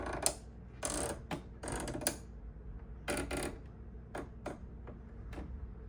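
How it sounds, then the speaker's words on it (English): The stitch width dial on a Brother ST531HD sewing machine turns with a series of faint, crisp mechanical clicks in uneven bursts, some grouped closely and others spaced apart, with no talk. "Turn the stitch width dial to see how it affects the needle's position"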